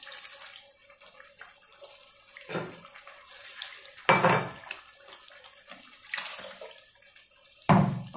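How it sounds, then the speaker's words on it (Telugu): Water is poured into a pan of egg pepper green masala curry, splashing in a few loud bursts with clinks of a utensil against the pot between quieter kitchen moments. "కొంచెం వాటర్ వేస్తున్నా"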